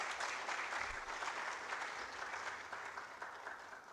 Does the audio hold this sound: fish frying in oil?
no